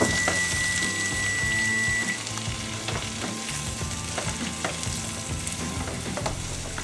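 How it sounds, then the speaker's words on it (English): Four cups of spinach sauté in a pan with golden browned garlic, giving a close, steady sizzle with scattered crackles and the scrape and clatter of occasional stirring. "Now take your 4 cups of spinach and add it to the brown golden garlic and stir occasionally."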